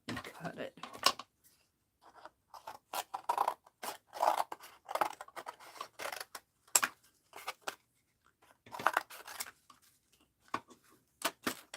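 Scissors cut through a sheet of paper in bursts of short snipping and crisp rustling strokes, close and clear, broken by pauses, with no voices.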